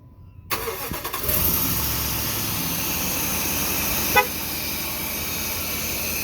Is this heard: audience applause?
no